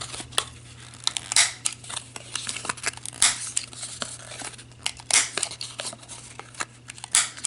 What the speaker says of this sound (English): so I'm going to use my little corner rounder